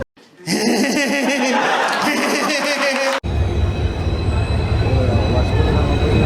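A train rolls through a station platform in Goa, first with a bright, squealing metallic clatter of wagons, then after a sharp cut a deeper, steady rumble of wheels continues loudly to the end.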